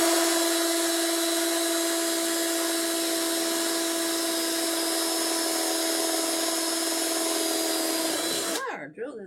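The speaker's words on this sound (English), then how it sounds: "I think my drill is going to die." A cordless power drill runs in one long, loud, continuous whine while prepping a holiday centerpiece base, with a high steady pitch that cuts off abruptly near the end.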